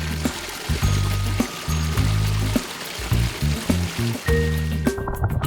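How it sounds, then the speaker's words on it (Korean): Mountain valley stream in Wolchulsan National Park, Yeongam, in summer, rushing steadily as a continuous broadband wash of water, with a low, blocky background hum running beneath it. "물소리만 들어도 더위가 날아갑니다."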